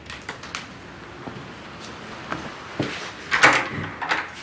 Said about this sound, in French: Je vais lui ouvrir la porte, ne quittez pas.